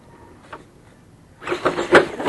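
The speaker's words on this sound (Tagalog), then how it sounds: "Lakas na motor niya, ano?" The small electric motor of a remote-control toy car is quiet at first, then whirs up loudly in short pulsing bursts near the listener.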